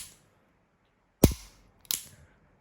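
A laser training pistol snaps off two sharp, close shots at a target about half a second apart, each a crisp click with a short ring, against near silence.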